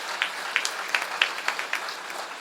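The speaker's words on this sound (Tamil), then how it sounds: "அவர்களுக்கு ஒரு உற்சாகமான கரகோஷம்." Audience applause at a Tamil comedy debate stage show, a burst of steady clapping with sharp individual claps standing out, moderately loud and without talk over it.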